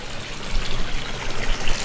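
Water sloshes and trickles steadily as a small carrot fish is let back into its tank, a soft continuous splashing with a few louder surges.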